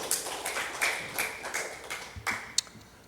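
Church congregation clapping during a Sunday thanksgiving service, a faint scattered patter of hand claps with a few sharper single claps, somewhat distant in a large room.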